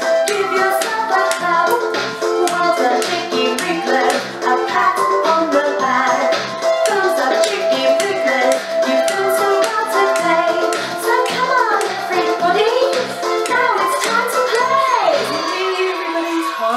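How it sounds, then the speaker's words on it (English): Children clap along to a sung children's song during an at-home music session, the claps mixing with the singing and accompaniment, steady and close throughout. "So if you don't know the words, please clap along."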